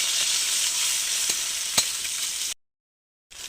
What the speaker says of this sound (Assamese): এয়া মোৰ কণীখিনি ভাজা হৈছে